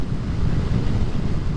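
Strong gusting wind buffets the microphone beside Highway 1 near Strathmore, Alberta, producing a steady, loud, low rumble with no speech.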